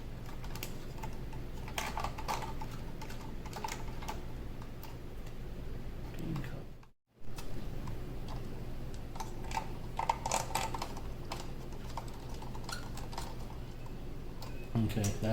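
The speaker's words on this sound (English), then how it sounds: "now I'm going to put these screws back in place" Small screws are driven back into a worn A/C and heater switch panel from a Porsche 997, Cayman or Boxster, with rapid, fine clicking and ticking that continues close by, broken by one brief pause.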